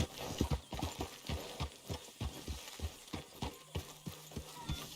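Horse hooves clip-clop in a steady trotting rhythm in the Red Dead Redemption 2 video game, close and clear across the whole stretch, with a faint low hum underneath.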